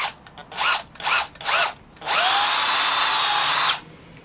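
A power drill bores through from the countersunk side, with three short bursts of whirring followed by one steady, loud, sustained run that stops abruptly.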